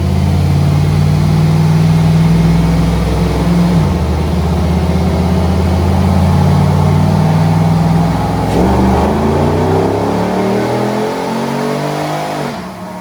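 A loud Jeep JKU engine with an engine conversion revs and holds high, drops, then climbs again in repeated pulls with traction control off, recorded up close with no talking.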